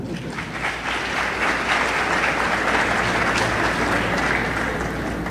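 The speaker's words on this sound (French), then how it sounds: "je vous demande encore d'applaudir chaudement" A graduation ceremony audience at a university applauds in a steady, dense wash of clapping that fills the hall at an even, fairly loud level throughout.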